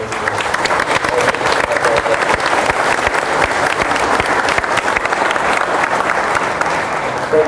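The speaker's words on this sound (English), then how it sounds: "We want to give you a round of applause real quickly as well for everything." An audience at a 2014 Arizona gubernatorial debate applauds standing elected officials, dense steady clapping from a sizable crowd that stays loud and even from start to finish.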